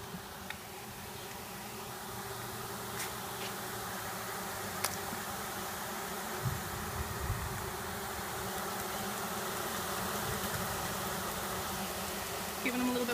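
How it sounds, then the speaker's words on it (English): A steady, droning buzz of honeybees inside a hive during a package installation, fairly close and continuous, with faint handling noises and occasional soft clicks. "Now I can feel the vibration in the hive"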